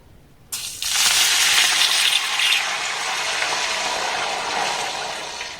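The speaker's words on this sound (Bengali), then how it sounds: "এবার দেখুন এই বাটির মাপ করে এক বাটি এখানে আমি জল দিয়ে দেব" Water poured from a bowl into a pan holding rock sugar and ghee: a loud, steady gushing splash that starts abruptly and runs continuously, close and alone.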